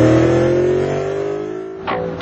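A Cadillac CTS-V high-performance luxury car engine drones loudly with a falling pitch as it eases off, then briefly revs up again near the end, heard alone with no talking.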